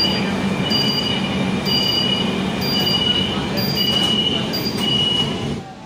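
A Kolkata Metro Purple Line train at Taratala station: loud, continuous rumble and wheel noise close by, with high squeals and clanks throughout, fading out at the very end.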